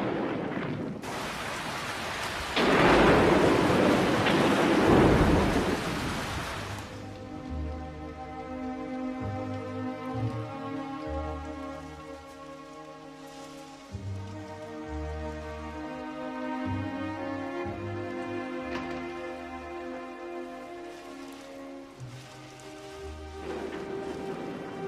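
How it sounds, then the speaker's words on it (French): A thunderstorm with rain: a long, heavy rumble of thunder over steady rainfall, partly buried under a sustained musical score that runs through the rest of the scene, with no one speaking. "C'est l'orage."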